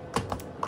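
Three quick keystrokes on an Anker Bluetooth keyboard for iPad, close and distinct, soft plastic taps in an uneven rhythm.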